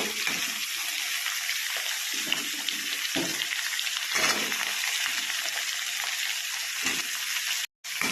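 Pointed gourd, pumpkin and papaya go into a hot pan one after another, giving a continuous loud frying hiss with short bursts as each vegetable drops in, then a brief drop-out near the end.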